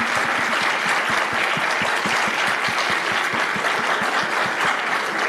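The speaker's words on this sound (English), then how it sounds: "I think we should all give you both a very big round of applause." Sustained applause from an audience in a lecture room, dense steady clapping throughout at a constant loud level with no talk over it.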